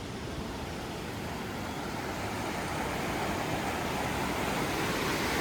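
Sea waves break and wash ashore at Puri beach, a broad, steady roar of surf with a wind-like rush that builds slightly louder through the clip.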